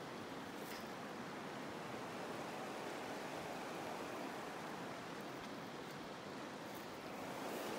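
Brazeau River water breaks over rocks near a campsite on the South Boundary Trail, a steady, even rushing roar heard at a distance with no voices.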